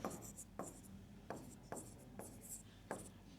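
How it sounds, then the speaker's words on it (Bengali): Pen strokes scratch on paper during a handwritten lesson, about six short, close scrapes spaced unevenly, faint and alone without talk. "তো এইটাকে আমরা এখন লিখবো হচ্ছে নীরা"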